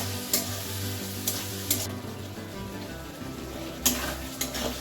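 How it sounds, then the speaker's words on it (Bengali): Shrimp frying in oil in a pan hiss and sizzle steadily at close range, with a few sharp clinks of a utensil stirring against the pan. "মোচার জন্য প্রথমেই চিংড়ি মাছটা ভাজা করে নিচ্ছি"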